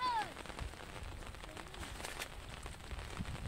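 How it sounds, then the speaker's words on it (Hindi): Steady rain patters on an outdoor surface during village net fishing and crab catching, a soft continuous wash of drops with a brief chirp near the start and no clear talk. "बारिश भी आने लग चुकी है"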